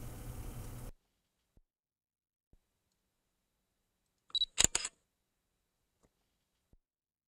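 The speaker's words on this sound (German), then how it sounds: "Geli kommt mir entgegen und schießt ein paar Fotos von mir." A camera shutter fires a quick burst of a few close, crisp clicks outdoors on a mountain path in the Stubai Alps, after a short stretch of wind noise and otherwise near silence.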